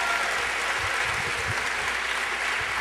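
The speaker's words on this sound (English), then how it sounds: "Let's give her a round of applause and give this space a round of applause." Even, continuous audience applause at a conference closing plenary, a thick wash of clapping from a seated crowd that holds steady without pause.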